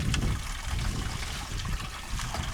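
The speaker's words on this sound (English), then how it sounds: "I'll just do a slight rinsing on the screen, just real lightly." Water lightly rinsing a gold prospecting screen at a desert mining claim, a steady splashing and trickling wash running throughout at moderate loudness, with no voices.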